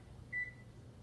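A kitchen timer gives one short, clear electronic beep as it is set, alone against a quiet kitchen background hum.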